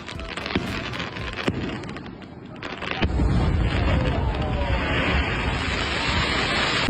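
A huge firecracker, billed as the biggest in the world, is lit and goes off outdoors with sharp cracking pops, then a sustained loud roaring, hissing burst that continues to the end.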